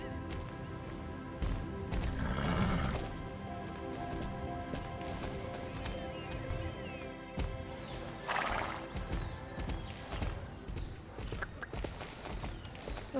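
A horse in the online riding game Star Stable Online gallops with continuous clip-clop hoofbeats and lets out two loud whinnies over ambient game sound.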